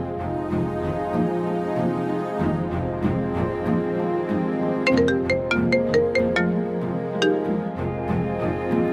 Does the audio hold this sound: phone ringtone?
yes